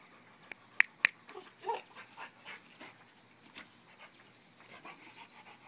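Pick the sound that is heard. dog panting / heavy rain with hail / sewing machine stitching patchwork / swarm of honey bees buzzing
dog panting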